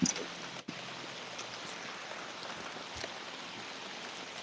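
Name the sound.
rain falling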